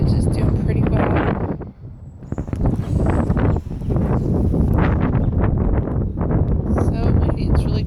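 Strong wind gusts through a garden, buffeting the microphone with loud, continuous rumbling that swells and briefly dips before surging again.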